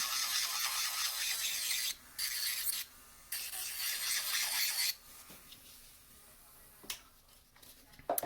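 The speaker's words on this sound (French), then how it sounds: "On passe un petit coup de lime pour m'assurer que tout est beau, que tout est bien lisse" Nail file rasping across a fingernail, close and bright, in several sustained back-and-forth bursts with short pauses, then fading to quiet handling noises and small taps, with no talking.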